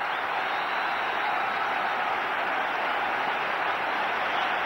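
A cricket crowd applauds Azharuddin's innings, a steady broad wash of clapping from a large stadium audience, sustained and even, heard from a distance without distinct individual claps.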